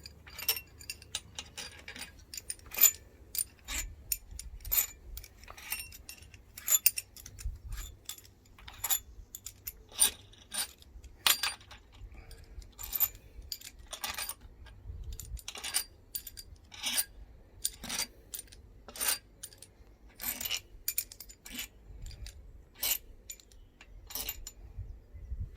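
Metal engine bolts from a Polo engine strip-down being removed and dropped, producing sparse, light metallic clinks and jingles at irregular intervals, close and fairly quiet.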